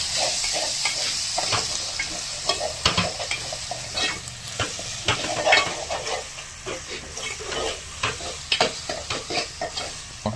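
Ginger garlic paste fries in a hot pan, a steady close hiss and sizzle broken by frequent scraping stirs of a spoon.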